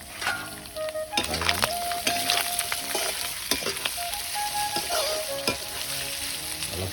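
Chopped onions sizzle in hot pork fat while a utensil stirs them, with crackling frying broken by scraping strokes and light metallic clinks close by.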